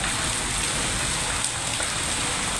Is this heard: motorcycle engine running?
no